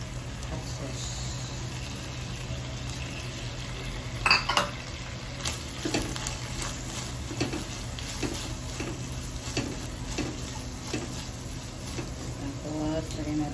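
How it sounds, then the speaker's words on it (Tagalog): Squid is stirred with chili hot sauce in a pan for a sweet-spicy dish, a steady soft sizzle punctuated by repeated utensil clacks and scrapes against the pan, including a louder clatter near the middle. "Haluin natin. Haluin natin yung chili"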